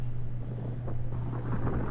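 Wind buffets the microphone while riding bikes in Philadelphia, a steady loud rumbling gust with a constant low hum underneath.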